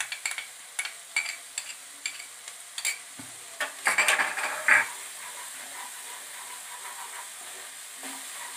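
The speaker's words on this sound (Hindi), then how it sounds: "अदरक के पेस्ट को भूनते हैं 2 मिनट के लिए" Ginger paste frying and being stirred in a pan while making a sweet-sour carrot and cauliflower pickle, with soft repeated scraping strokes over a quiet sizzle.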